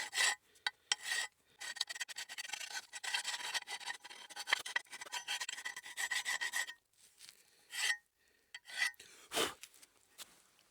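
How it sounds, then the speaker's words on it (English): A hand file scrapes rust off the surfaces of a GMC Yukon brake caliper bracket in short, bright rasping strokes. The strokes come close together in bursts, separated by short pauses. "I take a file again and just clean these out, all the surfaces where these anti-squeal clips sit"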